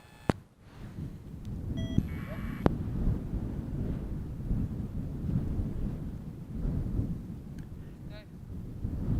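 Gusty wind buffeting a microphone outdoors at a radio operating spot in Brixham, South Devon, a steady low rumble rising and falling throughout with a couple of faint clicks, no clear talking.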